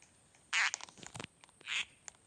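Rubber duck squeaks in the Ragdoll Engine video game, two loud, bright squeals about a second apart, with scattered clicks and faint game noise between them.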